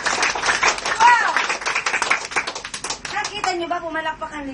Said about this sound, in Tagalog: Nakita niyo ba pumalakpak ang lingkod?